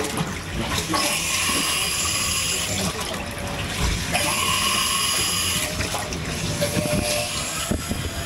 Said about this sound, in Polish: Włączyłem pompę węzłową